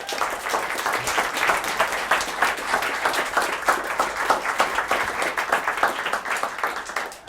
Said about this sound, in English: let's give a warm welcome applause to Colson Whitehead